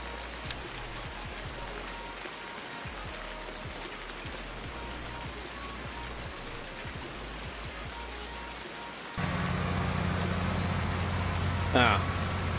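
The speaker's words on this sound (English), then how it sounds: "Lord, how rare is rain on the game?" Steady rain from the Farming Simulator 19 game on Marwell Manor Farm, a continuous hiss of drops falling on surfaces, joined by a louder low engine hum in the final few seconds.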